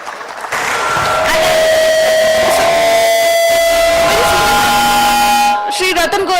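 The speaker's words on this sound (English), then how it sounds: "a big round of applause to him" Loud applause and crowd noise at a tax conference, with cheering, shouting voices and a strong tonal hum running through the sustained clapping before it breaks off.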